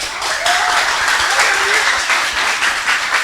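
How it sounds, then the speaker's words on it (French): Loud, dense applause from an audience at a high school quiz competition in Haiti, steady and close throughout, with a few faint voices mixed in. "je vous demande de les applaudir s'il vous plaît"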